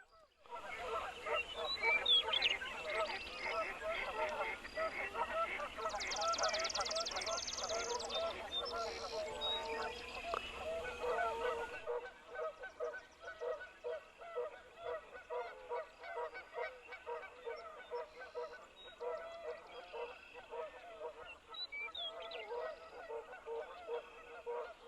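Geese and other farm fowl honk and call loudly through a calm farm morning, a dense continuous chorus that thins out partway through while the birds keep calling.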